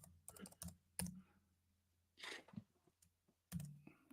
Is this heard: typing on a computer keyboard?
yes